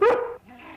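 A single loud, close bark from a Collie with a sharp start, then a lower, quieter growling tail that fades away.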